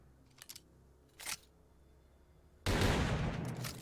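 A double-barrel over-under shotgun in a video game fires one loud, roaring blast that decays slowly, preceded by a few small mechanical clicks; no voice.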